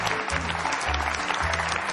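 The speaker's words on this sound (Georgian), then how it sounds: "აპლოდისმენტები" A studio audience on a Georgian TV show applauds, a dense, steady wash of clapping with low rumbling undertones that carries on without a break; no speech stands out.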